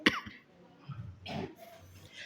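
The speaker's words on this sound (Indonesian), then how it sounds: "Maaf nih, keganggu batuk." A man coughs once, sharp and close, followed by a brief throat-clearing rumble and quieter breathy noises, interrupting a religious talk.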